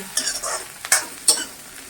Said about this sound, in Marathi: आता खोबरं घालून घेऊया। हे पण चांगलं भाजून घ्यायचंय।